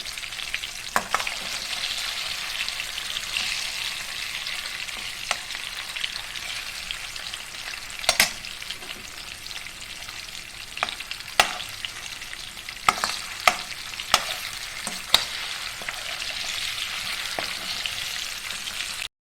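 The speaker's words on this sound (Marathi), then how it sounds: "हे तेलातले चांगले परतून घेऊ तळून घेऊ" Vegetable balls deep-frying in hot oil for a pulao, a steady close sizzle and crackle running throughout, with occasional sharp pops and spoon clicks and no voices.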